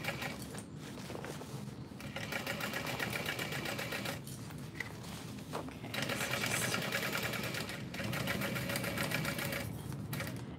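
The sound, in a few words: sewing machine stitching a backpack seam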